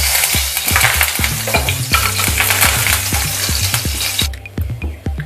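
Curry leaves fry in hot oil in a pan, giving a loud, steady sizzle broken by regular metallic scrapes and clicks from a stirring spoon. Sizzle and scraping carry on throughout, with no talking.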